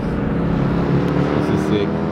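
Drift cars at a drift event, including two Subarus and a Nissan S15, with a loud, steady engine roar of cars passing close by while a person talks over it.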